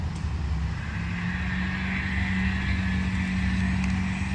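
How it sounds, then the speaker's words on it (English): Steady car traffic rumbles beside a graveyard, a continuous low engine and tyre drone at moderate distance with no voices. "A lot of graveyards have a lot of car noise"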